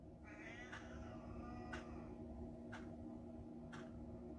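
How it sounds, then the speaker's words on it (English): A pet cat named Benji gives a drawn-out meow at the same moment a home heating system starts up, and the heater's steady low hum continues through the clip, punctuated by faint periodic clicks. "The heat came on, and then Benji meowed at the same time"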